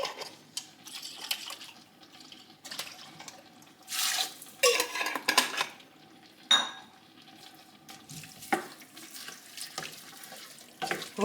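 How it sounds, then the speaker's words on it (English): About two litres of water poured into a soup pot of farmhouse borscht with freeze-dried leek, heard as intermittent splashing and running water bursts with light pot clatter, close and fairly quiet, no talk. "I'm just going to add 2 litre water"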